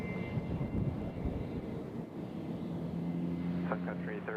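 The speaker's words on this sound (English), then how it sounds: "Prime Air is going to take off on 20 right" A Prime Air cargo jet takes off from runway 20 right at Nashville International Airport, its engines a distant, steady broadband roar with faint tonal whine, heard from afar under light outdoor background.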